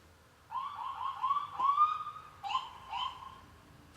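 Police siren wailing outside a house, a rising and falling electronic tone in several sweeping bursts over about three seconds, moderately loud, heard through walls with no talk over it.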